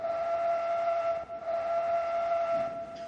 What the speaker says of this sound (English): really rather nice whistle on the B button.